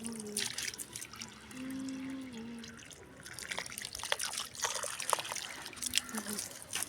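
Water trickles and drips onto flowers, a faint, steady splashing that runs under a person talking nearby.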